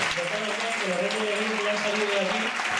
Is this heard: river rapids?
no